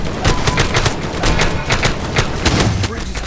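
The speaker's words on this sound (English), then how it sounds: "We need to take care of that turret before it takes care of us!" A turret in a LEGO Avengers video game lets off rapid bursts of booming gunfire, mixed with thuds and the voices of game characters.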